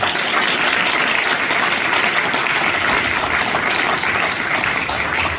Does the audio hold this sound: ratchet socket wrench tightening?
no